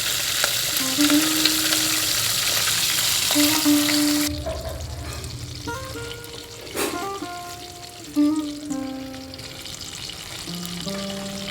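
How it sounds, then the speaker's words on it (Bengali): Katla fish frying lightly in a pan: a steady oil sizzle for the first few seconds, then quieter spatter and soft crackle with a few tonal clinks and scrapes, no speech. "মাছটা বেশি কড়া করব না, এটা হালকা ভাজা হবে"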